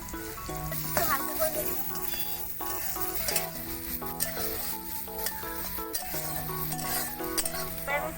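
Sliced radish frying in a pan as the first step of a chow mein, giving a steady close sizzle with occasional stirring scrapes beneath prominent tonal background music.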